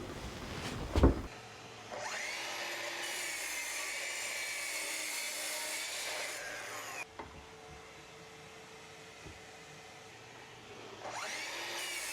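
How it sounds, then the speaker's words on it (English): A workshop dust extractor and air filter run with a steady loud motor whine and airy roar. It cuts out briefly after a thud partway through, then drops to a quieter hum before rising again. "I just have to get the dust extractor hooked up, the air filter running"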